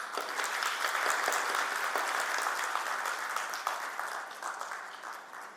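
A hall audience at a book launch ceremony applauds to welcome a judge, a dense, even round of clapping that holds steady before gradually tapering off.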